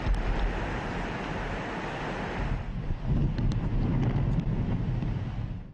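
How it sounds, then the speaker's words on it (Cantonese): Strong typhoon winds roar across Hong Kong Island's eastern shore, buffeting the microphone with loud, continuous gusts while heavy waves surge and crash beneath, the rumble swelling and easing without any voices. "風勢凌厲，圍角浪。"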